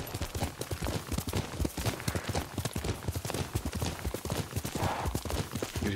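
Horse hooves clip-clop steadily and close in the video game Ghost of Tsushima, a rapid rhythmic clatter of a trotting horse filling the whole stretch, with a brief faint whinny.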